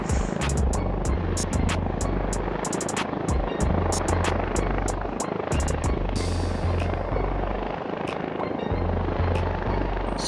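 Cabin of a helicopter flying from Dhaka toward Tangail over monsoon-flooded countryside: a loud, steady rotor throb with a rapid rhythmic pulse and a continuous engine hum, close and unbroken throughout.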